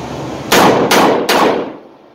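Three sharp, loud .357 Magnum revolver shots ring out in quick succession, each with a short decaying echo, with no talking.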